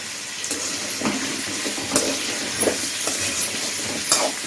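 Mango pachadi being sautéed in a pan, a steady close sizzle with a few scraping stirs of the spoon scattered through, no talking.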